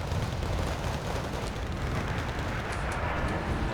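Artillery explosions in the war strategy game Wargame Red Dragon, a continuous rumbling barrage of deep booms and crackling blasts blending into a dense, loud roar throughout.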